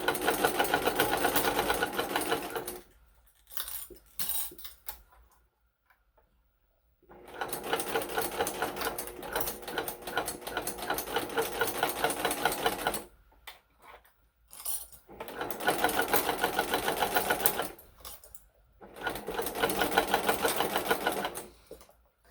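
A sewing machine stitches with black thread in several bursts of steady, close whirring, separated by pauses of near silence.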